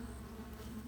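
Honey bees crowd a frame pulled from a hive, making a steady, low, close buzzing drone with no talk over it.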